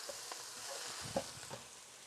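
Food frying in a pan gives a quiet, steady sizzle with soft scraping as it is stirred, a few faint clicks of utensil on pan, and no talk.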